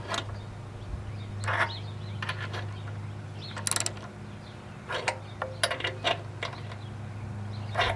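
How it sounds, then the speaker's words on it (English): A socket wrench ratchets in short clicking bursts while tightening the knobs on an Orion HDX110 telescope mount outdoors in the field, with quiet pauses and a low steady hum between the turns. "So this socket wrench fits on pretty well, and it's much easier to tighten."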